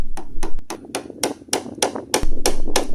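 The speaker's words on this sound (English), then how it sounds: "This meant much tricky chiseling" A chisel struck repeatedly into a boat's wood, about ten sharp, close knocks at an uneven pace, with a low background hum.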